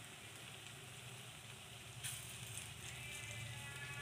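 Round balls of fritter batter, for lotte fish bora, fry in oil in a kadai, giving a faint, steady sizzle with small crackles and a slight swell midway.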